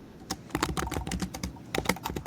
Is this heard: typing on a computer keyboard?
yes